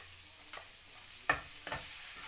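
Garlic sautés in a little olive oil with a soft, even sizzle, broken by a few brief scrapes as it is stirred around the pan; nobody speaks.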